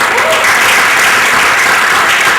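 A church congregation at a youth revival service applauds together, a loud, dense and steady wash of clapping that fills the room, with a faint voice rising briefly near the start.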